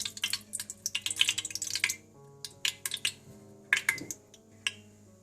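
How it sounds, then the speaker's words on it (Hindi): Desi ghee going into a pan for nihari, heard as a quiet series of soft drips and crisp little pops and spatters in irregular clusters, with a faint steady hum underneath. "इसके बाद आप देसी घी डाल लें।"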